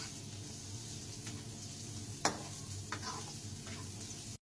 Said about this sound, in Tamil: மிக்ஸ் பண்ணி நல்லா வதக்குறாங்க.